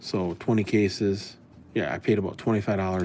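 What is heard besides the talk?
No everyday noises stand out.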